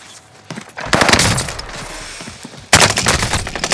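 Gunfire in the video game Call of Duty: Modern Warfare, with a loud sustained burst of automatic shots followed after a brief lull by another heavy close volley.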